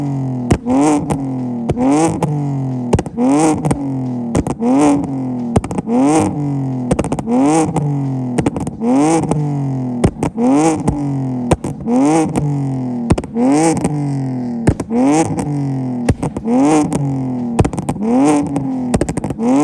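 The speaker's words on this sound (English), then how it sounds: "I'm running catless eBay headers, which goes into a Y pipe, which then goes into an ultra quiet vibrant resonator" BMW E46 exhaust running catless eBay headers, a Y pipe, an ultra quiet Vibrant resonator and a 4-inch Greddy muffler, heard close and loud as repeated revs rising and falling in a steady rhythm with a raspy engine note.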